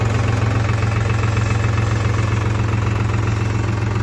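A New Holland T3.50 Plus tractor ploughs a thick-grassed paddy field in gear H1, its diesel engine holding a steady, loud, low throbbing rumble with a constant knocking pulse throughout.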